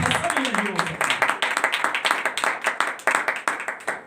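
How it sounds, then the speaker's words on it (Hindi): A church congregation claps loudly and steadily during a Hindi-language sermon, a dense run of applause with a preacher's voice over it. "जोरदार तालियां खुदा के जलाल के लिए"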